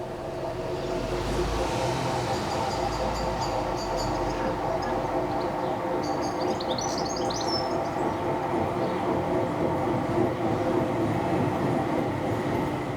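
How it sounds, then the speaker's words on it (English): A train on the Stourbridge Town branch line rumbles slowly around an extremely tight curve, its wheels letting out high squeals in two short bursts over a steady mechanical drone, with faint birdsong in the background. "Our train is coming in to take me back to Stourbridge Junction, and you can see it there traversing that extremely tight curve there."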